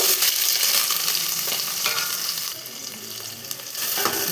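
Green chillies and sliced onions sauté in a pan for vegetable rice, giving a steady, close sizzle with soft stirring scrapes throughout and no talking.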